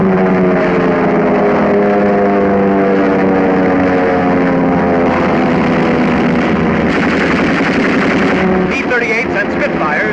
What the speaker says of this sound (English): This is a dogfight. A Spitfire dives on a Messerschmitt.